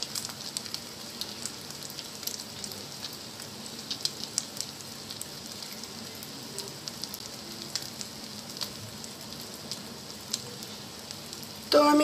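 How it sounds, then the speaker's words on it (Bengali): Eggs fry in a pan for a spicy Bengali omelette, giving a steady, even sizzle and crackle throughout with no talking. "ওই ডিমটা বাকি ডিমগুলো ভেজে নিব, এই যে এইভাবে লাল করে।"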